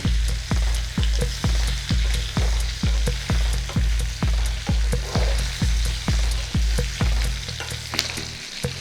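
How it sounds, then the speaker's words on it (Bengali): Potato and eggplant pieces frying in oil in a pan, a regular rhythmic series of sharp knocks over a continuous sizzle, the beat stopping near the end as the hiss carries on. "আলু আর বেগুনগুলোকে একটু ভেজে নেব"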